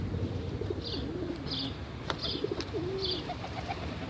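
Pigeons coo softly in a low, repeated rolling rhythm against steady background noise, with a few faint higher chirps mixed in.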